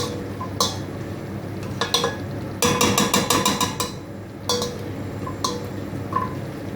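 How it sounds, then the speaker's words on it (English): Onions are mashed in a pan for fish curry, with a utensil tapping and knocking against the metal in quick bursts, including a rapid run of clinks in the middle, over a low background rumble, close and without talking. "Just mash it until the onions break down a lot more."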